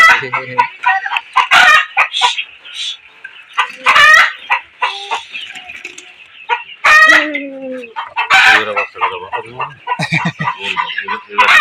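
Fayoumi chickens cluck and squawk close by in a busy, continuous chorus, with a rooster-like call mixed in and brief voices underneath.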